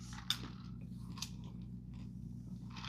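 Crunchy snacks being chewed, with soft, irregular bites and crunches heard close over a low, steady kitchen hum.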